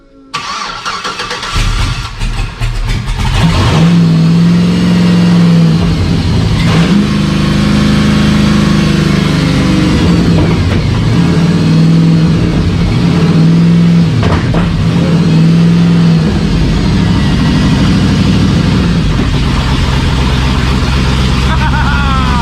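A Jeep Comanche with a swapped-in V8 starts up, then runs steadily with a strong low engine tone, blipping through repeated revs and settling back toward idle, loud and close throughout.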